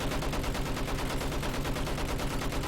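Machine gun fire in Battlefield 1, a loud, rapid, unbroken stream of automatic shots with a fast, steady rhythm, close up and filling the whole stretch.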